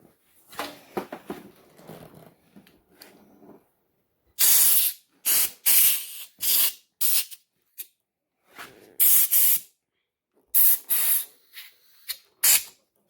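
WD-40 sprays from an aerosol can during pre-ride work on an ATC 350X and 250SX, in a series of short, loud hissing bursts of uneven length separated by silence, after a stretch of faint handling noise.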